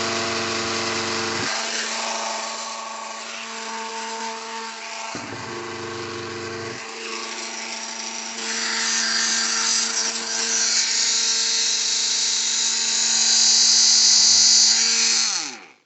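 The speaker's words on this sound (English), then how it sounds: "I'm going to switch the power on, that's off. So a little bit of noise is going to come up." A rebuilt Lister Star stationary engine runs rough with a steady, buzzing mechanical drone, a couple of brief dips early on, then it grows louder and harsher toward the end before cutting out.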